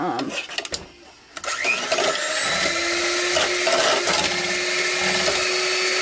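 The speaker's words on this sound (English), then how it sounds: "I'm going to actually take a blender" An electric hand blender whips plain unscented candle wax, a loud steady motor whine starting after a brief pause and running on continuously, with a voice speaking briefly beforehand.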